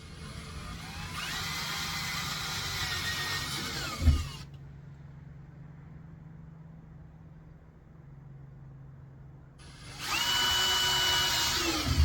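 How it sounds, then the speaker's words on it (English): A power drill bores holes while a Kolpin Outfitter cargo box 93450 is installed, two loud steady whirring bursts separated by a quiet pause with a brief thump. "moment of truth where I tend to screw up is drilling holes"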